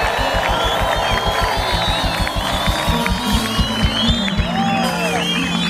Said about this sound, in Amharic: አሜን እልልታ ጭብጨባ